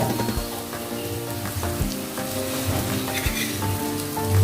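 Alu vadi made with besan and rice flour sizzles steadily in hot oil, a close, continuous crackle that swells slightly toward the end, with no talking.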